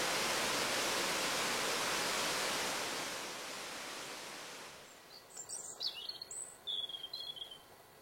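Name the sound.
birds calling in spring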